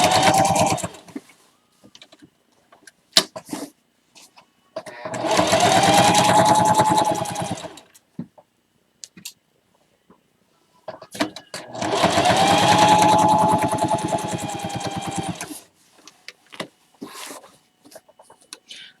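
A sewing machine stitches an egg gathering apron in two long, loud whirring runs separated by quiet pauses filled with fabric handling and small clicks.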